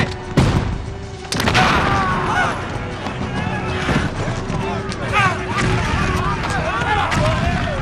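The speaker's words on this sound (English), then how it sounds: "the French answer back with a burst of cannon and mortar rounds." French cannon and mortar rounds boom from a fort during a siege battle reenactment, several heavy thuds and blasts amid shouting and battle babble, with a narrator's voice running over the gunfire.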